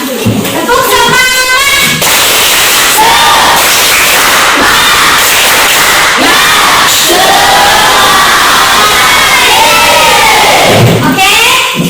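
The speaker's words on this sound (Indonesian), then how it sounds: "kita tepuk semangat dulu" A schoolroom full of pupils chants and shouts loudly in unison, children's voices rising and falling in a rhythmic spirit cheer with claps and thumps mixed in, sustained and close throughout.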